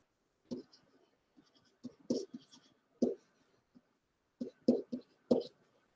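Chalk or marker writes by hand on a board in short, scratchy strokes and taps that come in irregular bursts, close and fairly quiet, with no talking.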